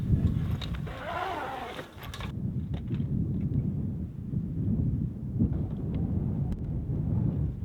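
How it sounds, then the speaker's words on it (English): Strong desert wind buffets the microphone at a campsite, a heavy, continuous low roar with gusty swells and a brief rougher burst near the start. "the wind kind of is coming this way"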